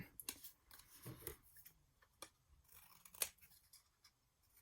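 Scissors snip through paper for patchwork journal cards, a handful of crisp, separate cuts with pauses between them, close up and quiet with no talking.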